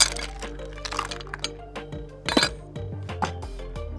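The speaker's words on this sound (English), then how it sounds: "Just give it a good stir." A spoon stirs a mint cocktail in a glass, giving bright clinks and taps against the glass in an uneven run, close and clear, with a faint low hum underneath and no talking.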